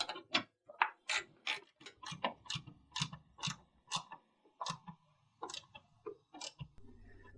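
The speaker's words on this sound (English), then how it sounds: "and you're ready to tighten the rail down" A rail on an Access Adarac truck rack is tightened down with a ratcheting tool, giving a close, quiet series of about fifteen sharp mechanical clicks in an uneven rhythm, with no voices.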